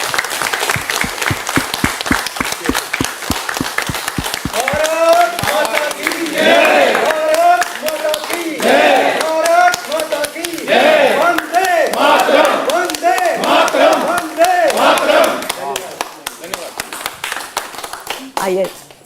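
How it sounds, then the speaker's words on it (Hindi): A studio audience on a Hindi talk show gives loud, sustained applause with cheering as film guests arrive; dense clapping continues throughout, with a host's voice talking over the crowd in the middle. "आप लोग जोरदार तालियों से स्वागत करें"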